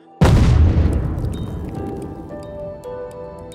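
A controlled detonation of unexploded bombs in Laos, one sudden deep boom that rolls out and slowly fades over a few seconds, heard from a distance.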